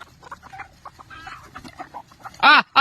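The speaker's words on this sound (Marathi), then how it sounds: "बघा कशा आल्या कोंबड्या." A flock of farm hens clucks in short, soft, scattered calls as the birds gather, ending in one louder, sharper squawk close by, with no talking.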